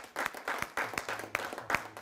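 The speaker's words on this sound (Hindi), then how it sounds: "जोरदार तालियों के साथ हम भाई पॉपुलर साहब का इस कार्यक्रम में स्वागत करते हैं" Scattered applause from an audience at a Hindi kavi sammelan (poetry recital) greeting a poet taking the stage; uneven claps swell and fade at moderate volume, somewhat distant, with no talking over them.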